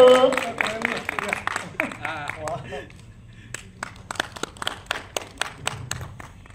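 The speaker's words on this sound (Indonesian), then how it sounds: "tepuk tangan dulu" A small audience at an Indonesian film press event claps briefly while voices talk over it. The noise thins out, and then a run of separate, sharp claps or taps follows.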